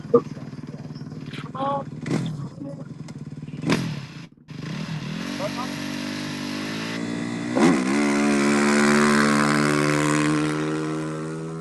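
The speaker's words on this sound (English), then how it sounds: "Ricky Brabeck is off the line" A KTM 450 rally motorcycle leaves the start line of a desert stage at the Abu Dhabi Desert Challenge, its engine revving and rising in pitch as it pulls away, under a commentator's voice.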